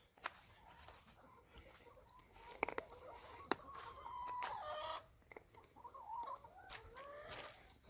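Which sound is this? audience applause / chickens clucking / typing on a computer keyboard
chickens clucking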